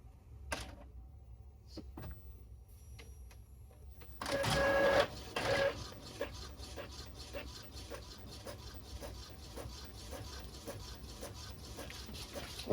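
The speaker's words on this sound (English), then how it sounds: "Well, that's printing." A sublimation printer works through a T-shirt transfer print, giving off a steady mechanical whirr with repeated carriage clicks and short motor bursts. A brief louder churning burst comes partway through, then the sound settles back to a moderate running hum.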